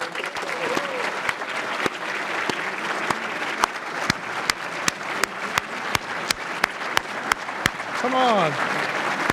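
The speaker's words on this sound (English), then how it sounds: "May I ask you all to stand and give you a round of applause?" An audience at an induction ceremony during an annual meeting applauds steadily, with a fairly even bed of clapping, a few sharp louder claps on top, and a brief spoken remark partway through.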